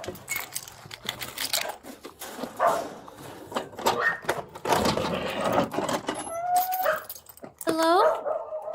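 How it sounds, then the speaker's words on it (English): A dog barks and whimpers in a home during a police search-warrant entry, several sharp close barks and high whines at the end, mixed with officers talking and shuffling throughout. "Dog."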